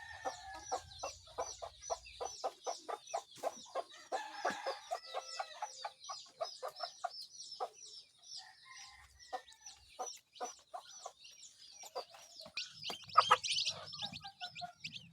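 Chicks peeping in quick, high, rapid bursts mixed with the soft clucks of hens, continuous and fairly close, with a louder flurry near the end.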